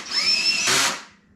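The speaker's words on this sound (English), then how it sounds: "I'm just getting all the bolts started. I got the chuck on my drill turned way down," Power drill with its chuck set low spinning bolts into a GPS bead lock rim on a Honda TRX450R: a short, close, high motor whine that rises, then a burst of rattling as the bolt seats before it stops.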